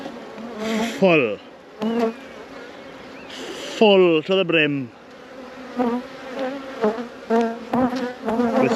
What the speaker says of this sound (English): Look at the bees pumping the honey in.